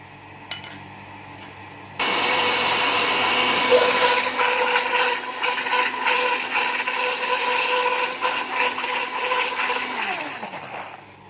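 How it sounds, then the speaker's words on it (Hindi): A kitchen blender whirs watermelon and pistachio ice cream into a smoothie, starting abruptly after a small clink and running loud and steady for about nine seconds before winding down. "तरबूज़ और आइसक्रीम को हमने ब्लेंड कर लिया है।"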